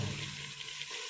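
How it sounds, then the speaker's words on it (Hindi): Water pours into a chicken masala gravy in a cooking pot, a short steady splashing stream that fades slightly toward the end, close and fairly quiet with no speech. "उसके बाद हमने इसमें डाल दिया है पानी"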